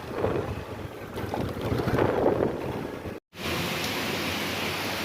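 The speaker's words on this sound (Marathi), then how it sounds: "खतरनाक पाऊस पडत आहे" Steady, dense broadband hiss of heavy rain pouring down nearby, with gusty rumbling underneath and a brief dropout partway through.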